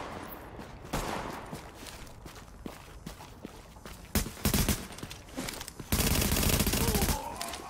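Bursts of automatic gunfire in The Division on PS4, broken into irregular loud volleys with a long sustained burst near the end, mixed with scattered footsteps and game effects; no one speaks during it.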